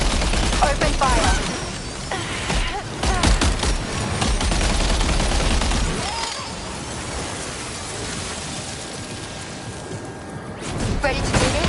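Rapid gunfire bursts in the video game Death Stranding 2, loud and dense in the first half and fading later, with a voice talking over much of it.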